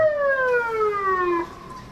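A police siren wails from an unmarked black passenger car pulling over a traffic violator, loud and close, one long descending tone that cuts off sharply midway, leaving faint road noise.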